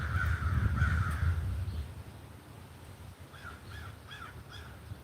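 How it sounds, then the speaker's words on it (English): Several crows caw overhead, a couple of loud calls first, then fainter caws drifting off over steady outdoor rustle. "You hear those crows? They just went over our heads"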